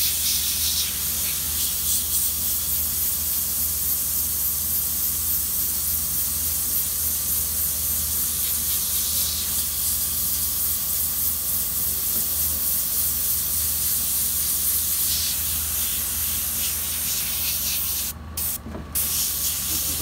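Airbrush spraying paint onto a t-shirt, a black and gray cat design, giving a steady, close, continuous hiss of compressed air that runs unbroken throughout, with a brief break and a couple of sharp clicks near the end.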